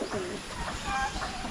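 Pet pigeons coo in soft, throaty, repeating calls close by over a steady background hum, with a faint voice now and then.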